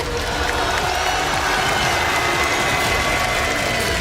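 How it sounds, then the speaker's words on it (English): Continuous applause and crowd cheering fill an esports arena at a League of Legends tournament, a broad steady roar of many people clapping at a distance. "Mesdames et messieurs, on peut applaudir HLE2,"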